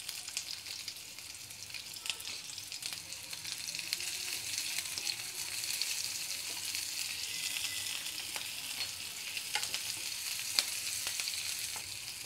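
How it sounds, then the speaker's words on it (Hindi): Chopped green chillies and onion frying in oil with crackled cumin, a steady bright sizzle and crackle throughout with occasional pops and faint stirring. "जीरा के चटक जाने के बाद मैं ये डालूँगी कटी हुई हरी मिर्च, और ये है थोड़ा सा प्याज।"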